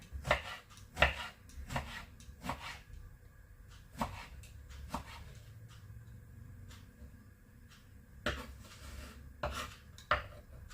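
Knife chopping eggplant into roughly one-centimetre cubes on a board, a series of irregular sharp knocks with pauses between bursts, close and moderately quiet, with no talking.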